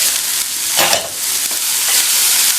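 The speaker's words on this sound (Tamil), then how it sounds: "இடையில மட்டும் ஓப்பன் பண்ணி கிண்டி விட்டுக்கோங்க." Radish pieces stir-frying in an opened pan, a steady loud sizzle with a sharp scrape of stirring near the start and softer stirring strokes after, no talking.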